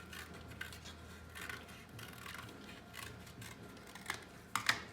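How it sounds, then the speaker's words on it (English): Scissors snip around a paper circle for a craft activity, giving faint, soft, irregular cutting clicks over a quiet room with a few sharper snips near the end and no talking. "And I'm going to cut out my circle."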